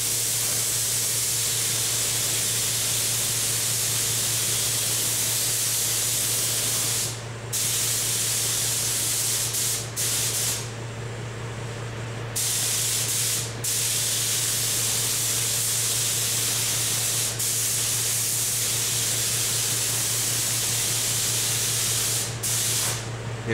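A spray gun lays a first coat of paint on a metal wing, a loud, continuous hiss of spray with a steady compressor hum beneath and a few brief breaks in the flow.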